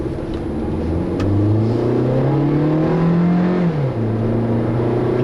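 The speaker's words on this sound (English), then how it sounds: "See, the 4-speed automatic is rather sluggish at its shifts." Inside a 2011 Kia Soul accelerating with a 4-speed automatic: the engine note rises slowly, then falls at a sluggish upshift, under a steady road hum, with no talking.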